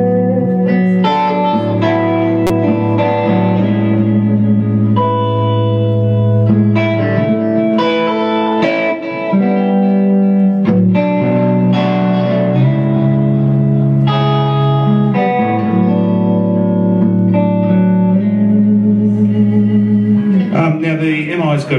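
A clean electric guitar through a G Major effects unit plays chords and single notes continuously, its tone washed in reverb with echoing delay trails, loud and close with no voices.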